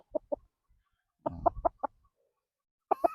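Gilliam Roundhead gamecock stags, nine months old, cluck in short nearby bursts of clucks with brief quiet gaps between them.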